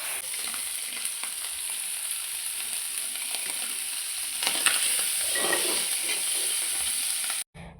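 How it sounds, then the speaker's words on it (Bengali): Five-spice seeds and bay leaves tempering in hot oil in a home kitchen: a steady, close sizzle and crackle, briefly stirred midway, before cutting off abruptly near the end. "দেখতেই পাচ্ছ এখানে পাঁচফোড়ন তেজপাতা দিয়ে সমা দিচ্ছি।"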